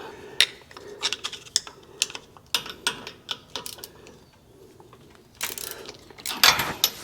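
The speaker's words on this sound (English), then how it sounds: "I'm gonna stick this here screwdriver in." Screwdriver prying at a front brake part on a 2021 Ram 2500 truck, giving irregular metallic scrapes, clicks and knocks, close and moderately loud.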